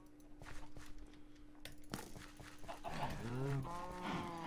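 A Minecraft cow gives a drawn-out moo near the end, preceded by quiet game clicks, footsteps and a brief tone, all fairly faint with no speech over it.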